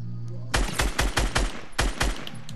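Burst gunfire from a Fortnite match: a series of loud, sharp rapid shots in quick clusters, with a brief pause before a final run of bursts, close and dominant.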